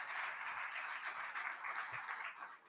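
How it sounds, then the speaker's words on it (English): A round of applause from an evening event audience: steady, dense clapping, fairly distant and soft, holding evenly for a few seconds before tapering at the end. "So give yourselves a nice round of applause as well for being here."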